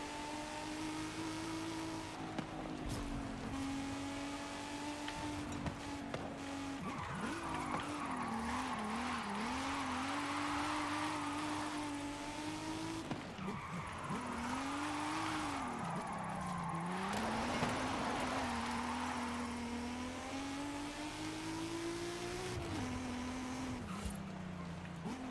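A car drifts in a racing video game, its engine revving and wavering continuously while tires squeal through long slides in a drift zone, loud and sustained throughout.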